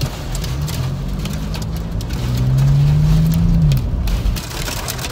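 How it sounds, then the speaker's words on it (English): Hail and heavy rain pound down during a microburst storm with low visibility in Tucson, a dense roaring hiss with sharp impacts, while a low engine-like hum rises and swells in the middle of the clip. "Here comes the hail."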